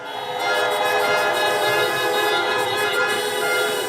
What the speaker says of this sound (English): honk your horn if you want America to lead again